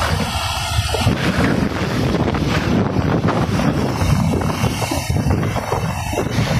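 Strong wind roars steadily across the microphone, a dense continuous rush of buffeting noise with no voices.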